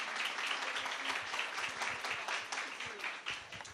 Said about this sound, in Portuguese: salve de palmas para a Osana,